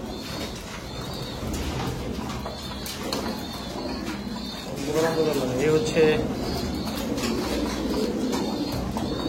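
Breeder pigeons cooing close by, with soft repeated coos rising over a general flock murmur while someone talks over them.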